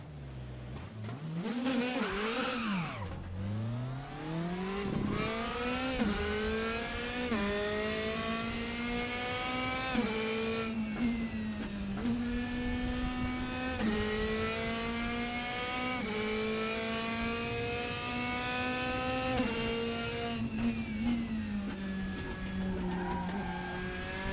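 A race car engine in the RaceRoom Racing Experience video game whines and climbs through the gears continuously, rising and dropping in pitch with shifts and braking, loud and close, with no talking.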